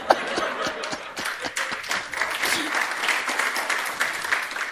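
A church congregation applauds, a sustained, lively wash of clapping with a few faint chuckles mixed in, lasting nearly five seconds.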